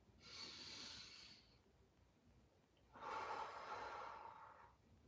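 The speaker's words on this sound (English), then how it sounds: "Deep breath through your nose. And a deep breath out your mouth." Two slow, deep breaths, a long inhale through the nose and then a longer, louder exhale through the mouth, close and clear in a quiet room during a beginner yoga session.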